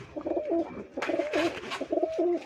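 A white master pair of pigeons with their babies cooing in repeated soft, throaty phrases, close by with no voices.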